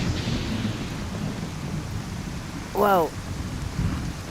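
Stormy weather in Skyrim VR, a steady wash of rain and low rumbling thunder running throughout, with a brief voice speaking near the end.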